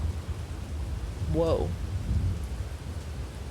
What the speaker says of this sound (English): Is that thunder and lightning?